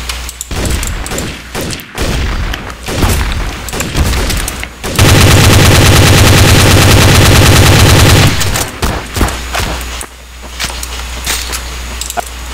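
Gunfire in the video game Trouble in Terrorist Town: loud, dense exchanges of shots with a sustained automatic burst of several seconds in the middle, followed by scattered single shots and thumps.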